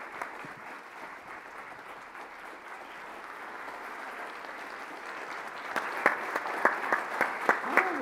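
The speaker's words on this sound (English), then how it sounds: "Please join me in a round of applause." Audience applause at an entrepreneur event, a steady crowd clapping that swells toward the end, with a few louder close individual claps standing out near the finish.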